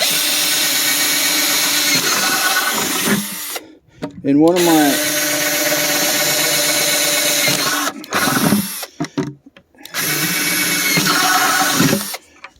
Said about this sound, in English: I am busy drilling a couple holes